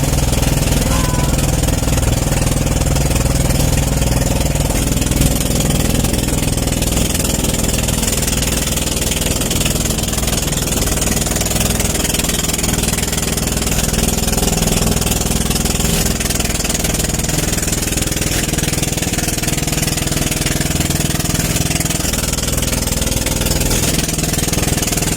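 A small boat's motor runs steadily as it departs an island beach, a loud continuous droning hum with no change in pace, close and dominating throughout.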